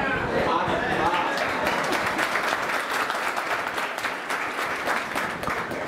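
An audience at a motivational lecture bursts into sustained, dense clapping that holds at an even loudness throughout, with some voices mixed into the crowd noise.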